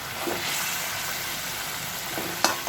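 Fish added to a pan of frying masala, producing a steady close sizzle with faint stirring scrapes and a brief sharp clink near the end.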